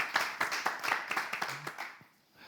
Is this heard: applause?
yes